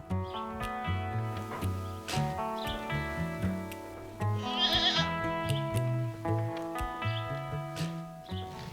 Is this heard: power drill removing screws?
no